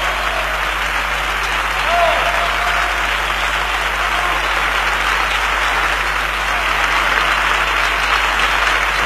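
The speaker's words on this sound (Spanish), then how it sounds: "Palmas de tango para él." Billiards audience at a Seville final applauding runner-up Daniel Sánchez, a loud, even, sustained round of clapping with a commentator speaking over it.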